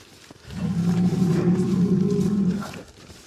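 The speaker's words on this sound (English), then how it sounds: "Oh yeah, now they're happy cows again." A farm cow lets out a single long, low, sustained moo lasting about two seconds as cattle are let out through a gate, fairly near and clearly audible over a quiet background.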